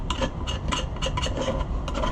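Hardened sawdust and bar oil being scraped off a Homelite XL-12 chainsaw: a repeated rasping scrape in quick uneven strokes, close and moderately loud, with no talk.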